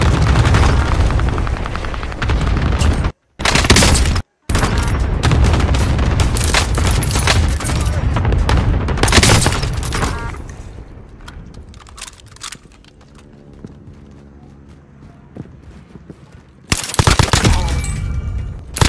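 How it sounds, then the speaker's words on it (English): Rapid bursts of gunfire and loud booms from a Call of Duty Warzone match on Caldera fill most of the stretch, briefly cutting out twice, then fading to quieter ambience before a loud burst returns at the end. "I shot him through the wall."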